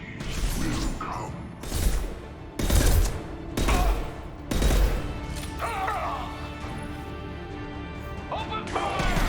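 Gunfire in the Mass Effect 2 video game breaks out in several heavy, crashing bursts of shots and impacts, loud and close, with a voice heard amid the battle noise.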